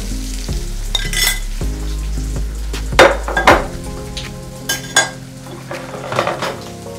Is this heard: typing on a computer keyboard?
no